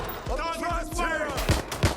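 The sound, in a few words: gunfire in the video game Watch Dogs Legion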